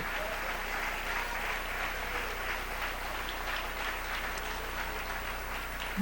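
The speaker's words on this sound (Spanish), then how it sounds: "Denle un aplauso al Rey." A church congregation applauds steadily for several seconds, a dense, even wash of clapping that fills the room with no break and no speech on top.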